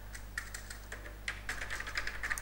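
Python code typed on a computer keyboard: quick, irregular clacking keystrokes that grow denser toward the end, close and fairly clear over a low steady hum.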